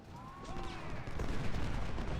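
Battle din from the Civil War strategy game Ultimate General: Civil War, with a steady wash of massed musket and artillery fire rumbling continuously at a distance, no single shots standing out.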